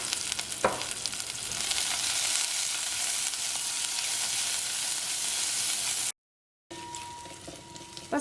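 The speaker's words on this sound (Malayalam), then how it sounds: "ഇപ്പോൾ സവോളയും ഇഞ്ചിയും വെളുത്തുള്ളിയൊക്കെ മുരിഞ്ഞിട്ട് നല്ലൊരു ഗോൾഡൻ കളറായിട്ടുണ്ട്." Onion, ginger and garlic frying to golden in a pan, with a steady, dense sizzle that runs unbroken for several seconds, then a short silent gap and a quieter resumed sizzle.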